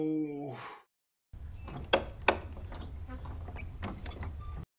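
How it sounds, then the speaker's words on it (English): After a brief voice and a pause, a door opens with scraping, creaking and a couple of sharp knocks and thuds, fairly close and loud. "That's a loud door."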